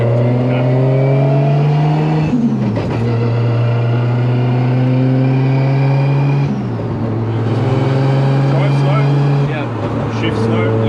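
A Nissan Skyline R32 GTR with a straight-cut dogbox gearbox revs hard and steadily, its engine note climbing then dropping sharply at each quick shift, three clear shifts in all, loud and close from inside the car.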